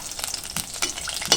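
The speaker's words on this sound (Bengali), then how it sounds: "লাল করে শুকনো মরিচ ভাজা হচ্ছে।" Dried red chillies frying in hot oil in a pan for a dried-fish mash, with a steady crackling sizzle and sharp bursts of popping and stirring scrapes throughout the short stretch.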